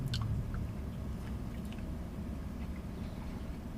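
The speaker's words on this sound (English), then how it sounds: "That bite and that crunch out of the sausage is just," Biting and chewing a sausage sandwich with egg, close to the ear: a few crisp crunches at the start, then a steady, moist chewing over a constant low background hum.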